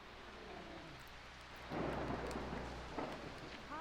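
Thunderstorm with rain in the video game Jurassic Park: Operation Genesis, a steady wash of rain with a deep thunder rumble swelling partway through and continuing, no voices.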